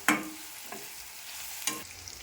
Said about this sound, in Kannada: ಇದೆಲ್ಲ ಚೆಂದಂಗೆ ಹುರಿಬೇಕು ನೋಡ್ರಿ